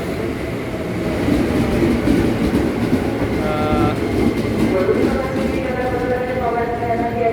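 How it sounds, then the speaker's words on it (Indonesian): A KRL commuter train bound for Jakarta Kota rumbles steadily nearby at a station with rolling wheel noise and faint tonal hums, a voice speaking briefly over the din. "Ini dia KRL kita yang menuju ke Jakarta Kota."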